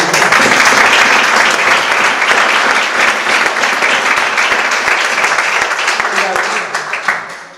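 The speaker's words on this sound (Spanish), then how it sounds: "yo sí que le daría un aplauso" Audience at an anti-bullying talk breaks into loud, sustained applause, dense clapping filling the room before tapering off near the end.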